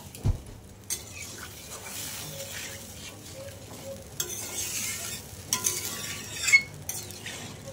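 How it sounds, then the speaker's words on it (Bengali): Spice paste for a Bengali fish and potato curry being stirred and fried in a pan, with soft sizzling, scraping strokes and occasional clinks of the spoon against metal, close and fairly quiet. "মশলা যতটা সময় ধরে কষাই তার হাফ টাইমটা একটু কষাবো"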